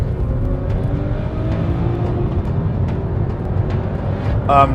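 A Volvo S60 Polestar pulls hard from a rolling start in a drag race against a Mercedes, its engine a loud, steady, rising drone that stays close and strong throughout.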